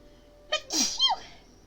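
A single sharp sneeze, close and loud, with a quick breathy intake leading into the burst, then quiet.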